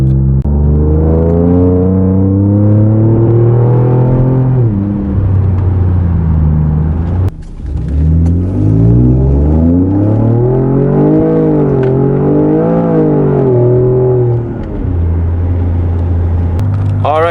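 A 2017 Ford Fusion Sport driving in traffic, its engine note rising and falling in a loud, steady drone with pitch sweeps as it accelerates, briefly dipping near the middle.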